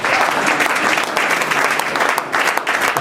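A church congregation applauds the Lord at a lively service, dense steady clapping filling the room close and loud for the whole stretch, with a few voices mixed faintly into the crowd.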